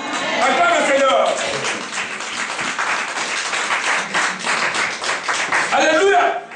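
A church congregation breaks into loud, sustained applause and clapping for several seconds, with a preacher's voice heard at the start and end.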